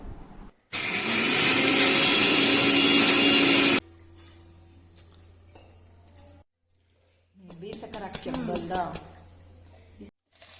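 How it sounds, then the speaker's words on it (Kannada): A kitchen mixer grinder whirs loudly for about three seconds while grinding spices into sambar powder, then stops; afterward come quieter clinks and handling noises and some voices. "ಒಂದು ಸ್ವಲ್ಪ ಮಿಕ್ಸರಿಗೆ ಹಾಕಿ ಪೌಡ್ರ್ ಮಾಡ್ಕೊತಾ ಇದ್ರು"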